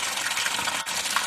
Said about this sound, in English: draining the water